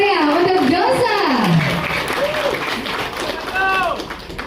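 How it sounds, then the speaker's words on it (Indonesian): Audience applause for the launch of the Josal online transport app, a steady wash of clapping running through the whole clip, with a voice speaking over it. "Sekali lagi berikan tepukan yang meriah untuk Josal."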